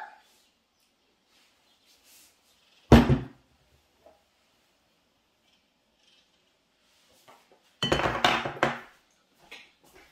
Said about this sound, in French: On va remettre notre couvercle et notre gobelet doseur.